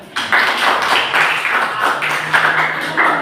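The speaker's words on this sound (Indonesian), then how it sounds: "Tepuk tangan semuanya." Schoolchildren at an anti-drug and anti-violence awareness session at a Surabaya junior high school burst into applause together, a dense steady patter of many hands clapping for about three seconds.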